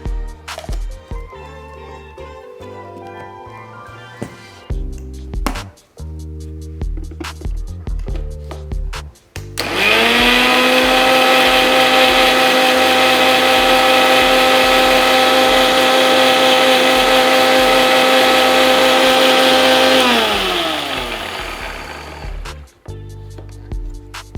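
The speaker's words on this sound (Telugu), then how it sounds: "కొన్ని వాటర్ వేసుకొని మిక్సీ పట్టుకున్నాను." A kitchen mixer grinder blends a paste with added water in one loud, steady whirring roar of about ten seconds. Clattering handling noises come before it and a winding-down whine follows.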